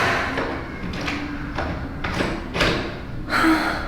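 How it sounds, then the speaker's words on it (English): A stuck balcony door rattles and thumps several times in quick succession as someone pushes and pulls at it without it opening. "Can't open the door."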